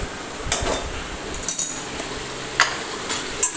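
Spices going into cooked tomatoes in a pan, with a few metal spoon clinks and scrapes against the vessel over a soft background sizzle, intermittent and close.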